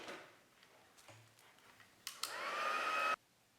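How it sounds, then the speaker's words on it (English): A handheld heat tool blows hot air to set embossing powder on a card, whooshing on abruptly with a steady hiss for about a second before cutting off, after a few quiet taps. "then you'll need your heat tool"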